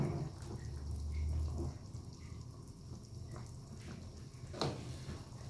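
Bitter melon and chicken soup with shiitake mushrooms bubbles in a pot, a soft low burble with faint pops and drips, close and quiet throughout.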